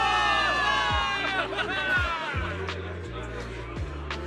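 A crowd of soldiers cheers and shouts loudly in a Zenless Zone Zero game scene, with a deep rhythmic rumble underneath, sustained throughout.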